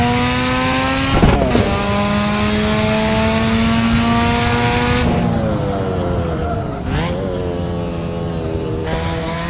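A video game race car roars through a tunnel with its damage setting on. The engine is loud and close, climbing through several gear changes with sharp shifts, and the sound rings back off the tunnel walls.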